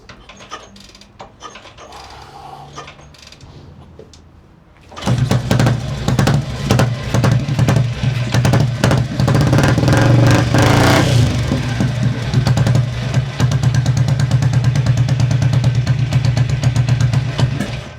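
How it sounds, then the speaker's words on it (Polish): Cold Junak motorcycle engine catches after a few seconds of mechanical fiddling and quiet shuffling, then runs loud and close with a rough, pulsing idle, swelling into a sustained rev before settling back to a throbbing idle. "jak silnik się nagrzeje, wiadomo, to jest zimny silnik"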